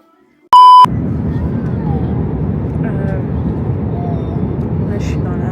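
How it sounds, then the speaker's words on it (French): Steady, loud broadband rumble of an airplane cabin in flight, starting after a sharp electronic beep and continuing evenly, with faint chimes or voices occasionally rising above the drone. "Là, je suis dans l'avion."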